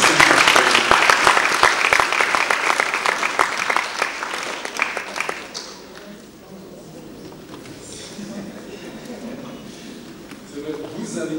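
A crowd at a women's leadership forum at the European Parliament in Strasbourg applauds loudly for about five seconds, the clapping then thinning into a quieter room murmur with people talking.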